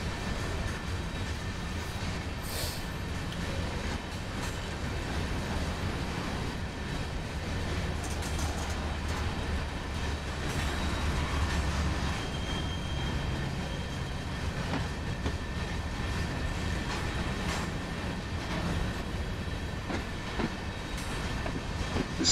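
A BR 185.2 electric locomotive in Train Sim World, running a DB service on the Ruhr-Sieg Nord line, gives a continuous rolling rumble with rhythmic clickety-clack of wheels over rail joints and faint squeals. It runs steadily for the whole stretch, with no voices.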